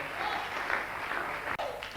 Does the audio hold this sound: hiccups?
no